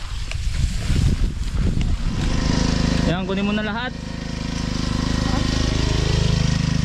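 A grass cutter engine runs steadily throughout at a constant drone, loud and close, while people talk over it.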